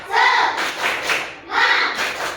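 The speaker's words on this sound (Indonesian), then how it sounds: "Tepuk semangat" A school class performs the 'tepuk semangat' spirit clap, with quick bursts of group clapping in two rhythmic waves, mixed with children's voices calling along.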